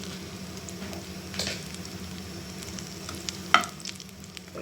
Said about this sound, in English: Now I have started roasting the buns.